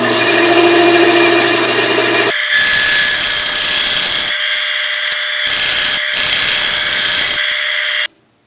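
A loud power tool trims the edges of a wooden blank into an octagon for pizza cutter turning, with a high-pitched whining run and then several bursts of cutting, each stopping sharply.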